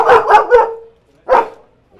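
A struggling boat engine drones steadily at sea during a super typhoon with heavy rain, wind and water noise, loud and close throughout, with faint voices mixed in.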